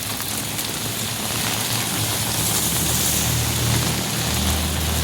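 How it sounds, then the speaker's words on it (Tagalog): Heavy typhoon rain pours steadily and loudly, a dense continuous hiss of drops striking surfaces close by, with a low rumble underneath. "Grabing ulan guys."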